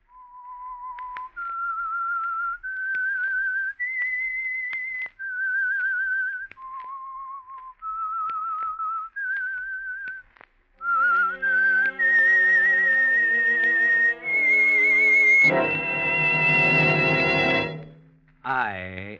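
A whistled radio-show theme melody for a Signal Oil mystery program plays alone in clear, separate rising and falling notes, then gives way to a fuller orchestral swell that ends abruptly.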